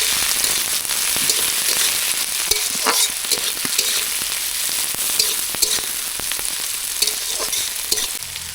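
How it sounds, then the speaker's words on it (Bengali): Chopped tomatoes and ripe red chillies fry in a pan, with a steady dense sizzle and crackle and occasional spoon knocks throughout. "এই টমেটো কুচিগুলো দিলাম, কিছু লঙ্কা কেটে রাখা পাকা লঙ্কা দিলাম, দিয়ে এটা ভালো করে ভেজে নেব"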